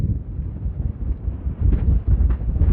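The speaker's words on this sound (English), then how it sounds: "it's very, very windy today" Strong wind at Sunrise Mountain, Las Vegas, Nevada, buffets the microphone with a low, rumbling roar that swells and gusts throughout, with no voices.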